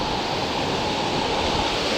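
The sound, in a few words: fast-flowing flooded river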